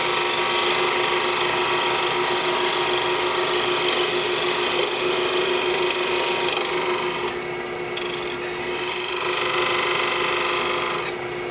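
A lathe tool cuts a 5/16-inch plow groove into a spinning ambrosia maple jar blank, giving a loud, continuous scraping whir with a brief dip near the end before it resumes.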